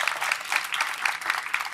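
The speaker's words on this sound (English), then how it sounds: "So give yourself a round of applause for being here all the way." Steady audience applause fills a symposium hall on homelessness, a dense patter of many hands clapping at once, sustained and fairly loud throughout.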